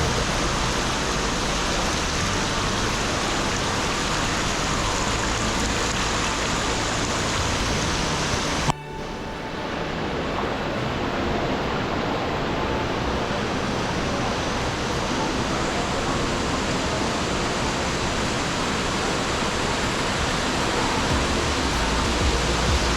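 A waterfall in Bali spraying off rocks roars as a loud, steady wash of rushing water, close and unbroken except for one abrupt cut partway through, with no voices.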